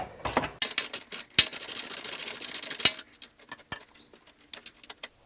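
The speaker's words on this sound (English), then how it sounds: "I'm using a ratchet wrench so I don't have to take the exhaust system down." A hand ratchet wrench loosening a bolt under a Jeep Liberty during rear upper control arm work, giving quick runs of metallic clicks broken by a couple of sharp clanks, close and fairly quiet.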